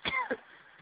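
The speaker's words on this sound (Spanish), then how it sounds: "Ay, qué tos." A short, sharp cough, two quick bursts close to the listener, with a faint voice-like quality.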